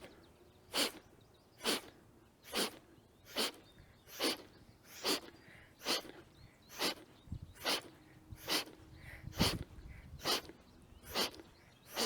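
Sharp, forceful nasal inhalations of the Strelnikova breathing exercise, about fourteen quick sniffs at an even rhythm of roughly one per second, close and clear against a quiet room.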